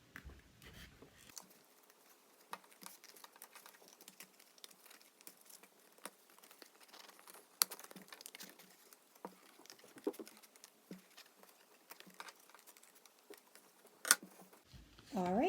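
Scissors snip carefully around a colorful paper craft mask, with faint, sparse clicks and rustles of paper, quiet and close.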